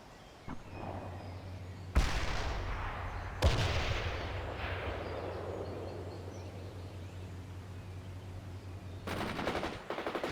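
Machine gun and artillery fire in the real-time strategy game World in Conflict, with heavy booming blasts trailing into long rumbling decay over a steady low hum and a rattling burst near the end.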